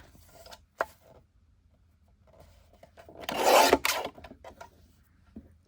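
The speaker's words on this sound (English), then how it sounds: "I'll just trim a little millimeter to make them perfect." Close-up rasping cut as glued junk journal paper edges are trimmed by a tiny margin, a single brief scraping burst after a few soft taps, otherwise quiet.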